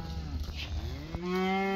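Cull cows low in a pen on a cattle farm, a couple of deep, drawn-out moos over steady background rumble, fairly close and moderately loud.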